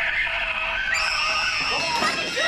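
A woman screams in a horror film scene, Rob Zombie's Halloween (2007), long high shrill wails that rise and shift pitch over a steady background, close and loud.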